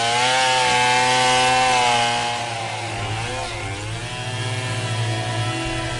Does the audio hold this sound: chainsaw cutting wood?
yes